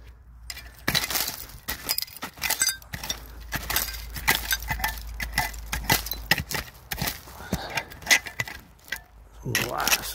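Old glass pieces clink and scrape against each other while someone digs through an antique bottle dump, a busy run of sharp close clinks and rattles, with brief talk near the end.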